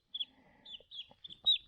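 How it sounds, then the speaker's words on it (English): A young rooster chick, about two weeks old, gives a series of high, short peeps, about five in a row, faint and close, with soft rustling in between. "this is going to be our little rooster"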